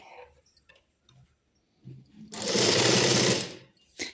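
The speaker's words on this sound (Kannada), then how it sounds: "1/4 ಇಂಚಷ್ಟು ಮೇಲ್ಗಡೆ ಬಿಟ್ಟು ಇಲ್ಲಿಂದ ಸ್ಟಿಚ್ ಹಾಕೋಬೇಕು." A tailoring sewing machine stitches fabric for a Patiala pant, starting with a few faint ticks and handling clicks, then running as one loud, steady, whirring burst of about a second and a half that stops abruptly.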